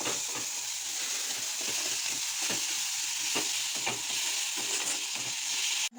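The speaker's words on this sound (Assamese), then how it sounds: "এতিয়া ঘিখিনি দি দিলোঁ আৰু এইখিনি ভালদৰে ভাজি ল'ম" Food fries in hot ghee with a steady, close sizzle and crackle, broken by repeated scraping stirs of a spoon in the pan; no voices.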